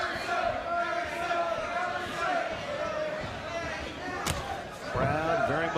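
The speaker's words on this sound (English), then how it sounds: "Crowd very much into it." A boxing arena crowd roars and cheers steadily through a bout between Erickson Lubin and Jose Macias, with a commentator talking over the constant swell of noise.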